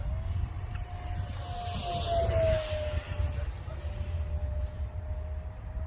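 Freewing F-22 radio-controlled jet with a 64mm 12-blade X-fly electric ducted fan, flying over a field in a gusty crosswind: a steady, sustained high whine drifting slightly in pitch over constant low wind rumble.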